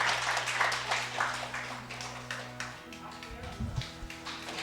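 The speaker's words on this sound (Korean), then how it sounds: "우리 장님 나오시 꽃다발 증정하실 때 이런 박수로 축하해 주시면 되겠습니다." A church congregation claps during a bouquet presentation at an infant baptism in a Sunday morning service, a soft, diffuse patter of many hands sitting under sustained organ-like tones, moderately distant.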